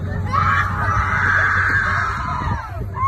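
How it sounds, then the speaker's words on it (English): At an Easter parade, a long sustained high scream rises over a busy crowd and low background hum, holding loud for about two seconds before trailing off. "I don't think Mary was screaming like that."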